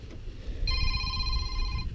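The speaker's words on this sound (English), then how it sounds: "Now my phone's ringing." A cell phone rings inside a John Deere 7610 tractor cab during a headliner install: a bright, sustained electronic ringtone starts partway in and holds for over a second over low rumbling cab noise.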